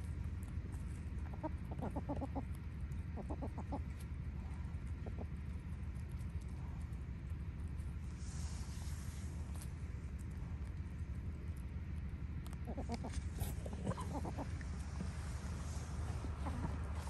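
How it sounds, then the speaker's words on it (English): Pet hens clucking in a backyard coop during a farm auction outing in Northern BC, with repeated short cluck bursts at a moderate distance over a steady low outdoor hum and no talking. "the chicken girls, are very much our pets"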